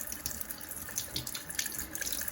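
Tap water runs from a faucet into an empty eggshell held against the stream, a close steady splashing flow with flickering spatter that carries on throughout, with no talking.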